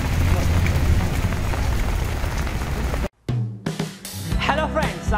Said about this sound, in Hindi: सीजन की पहली ऐसी बारिश है जो लगातार 24 घंटे से एक जैसी बारिश हो रही है